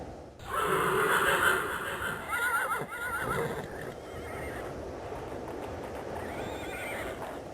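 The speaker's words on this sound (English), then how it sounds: "The horses, running through snow, look magnificent." Horses running through snow on the steppe neigh and whinny several times close by, with snorts, heavy breathing and a soft hoof rhythm underneath.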